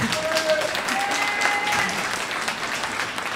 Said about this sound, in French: Si vous applaudissez à chaque fois, on ne va pas s'en sortir.